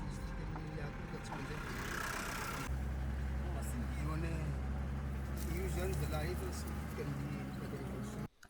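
A 4x4 rumbling along a rough, bumpy dirt road in rural Madagascar, its steady engine drone and jolting rattles continuous and close throughout before cutting off abruptly at the end.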